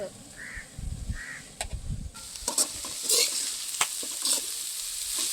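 Pumpkin halwa cooking in oil in a pan with a soft sizzle and stirring scrapes, a few birds cawing in the background, and short bursts of louder clatter near the end.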